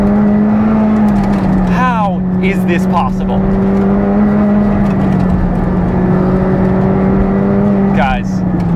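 A McLaren 765LT supercar drives and accelerates in a loud, steady engine drone that holds throughout, with brief gear-shift sweeps, and someone talks over the engine noise.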